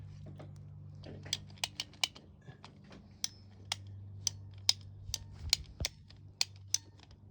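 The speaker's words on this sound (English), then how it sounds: "It just squeeze it once and it cuts about 1/8 of an inch at a time." A ratcheting PVC pipe cutter is squeezed repeatedly on sprinkler pipe, giving a series of sharp, faint clicks and snaps, roughly a dozen in quick irregular succession over a low background hum.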